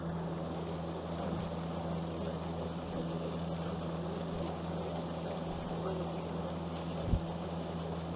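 Ryobi 40V self-propelled battery push mower running on a lawn, a steady close whirring hum with a low tonal drone that holds even throughout with no pauses.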